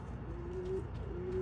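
White racing pigeons cooing softly, a low drawn-out coo repeated twice over a steady rumble of outdoor background noise.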